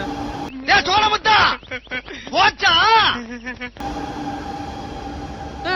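A steady mechanical hum of a moving Chennai Metro train fills the background while a person talks loudly over it inside the carriage, the rumble continuing after the voice stops.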